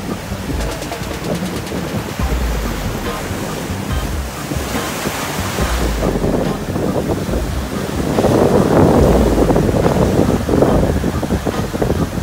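Ocean surf at Labadee, Haiti, a steady wash of waves with heavy wind buffeting the microphone, building louder toward the end.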